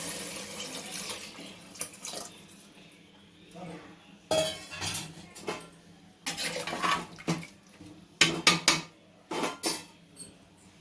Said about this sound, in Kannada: ಈಗ ನೀರು ಒಂದು ಗ್ಲಾಸ್ ಅಕ್ಕಿಗೆ 2 ಗ್ಲಾಸ್ ನೀರು